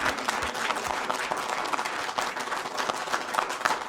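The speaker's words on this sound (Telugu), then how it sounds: "అందరి కోసం చప్పట్లు కొట్టాలని నేను వేడుకుంటున్నాను" Crowd at an audio pre-release event in Hyderabad applauding, a dense burst of many hands clapping, loud and continuous from start to finish without speech.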